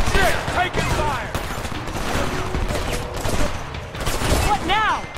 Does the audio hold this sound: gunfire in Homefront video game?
yes